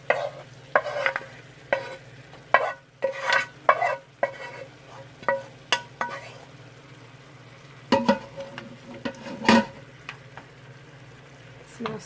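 Vegetables go back into a hot pot of sizzling oil for a Congolese dinner and get stirred, with a steady fry hiss under repeated spoon-and-pot scrapes and clacks at an irregular rhythm, close and moderately loud, with no talk.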